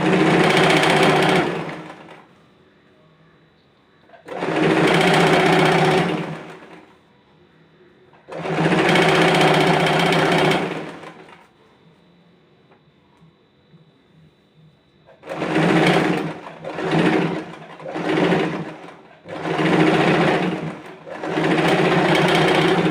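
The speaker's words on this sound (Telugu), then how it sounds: "ఇప్పుడు మరొక సైడ్ కూడా స్టిచ్చింగ్ వేసేసుకుందామండి" A sewing machine stitches along the side of a fabric cushion cover in loud close bursts, three longer runs separated by pauses, then several short quick runs in succession.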